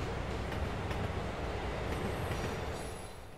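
A train ride in the Spider-Man PS4 game, heard as a steady, close rumble of a rolling train with faint rail clatter, fairly quiet and continuous with no talk.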